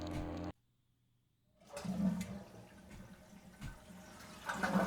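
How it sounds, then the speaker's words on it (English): A toilet flushes inside a horror video game: a sudden rush of water swells after a short silence and churns on steadily, louder again toward the end, with no voices over it. "Those are flushing sounds."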